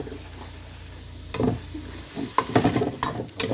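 Pork stir-fried with pounded chili paste in a pan, utensil scraping and tossing in short bursts over a steady low sizzle, close and moderately loud.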